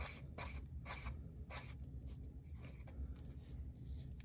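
Pen or marker writing by hand on a surface while drawing a row of ten ones, a steady series of short scratchy strokes close up, with no talking.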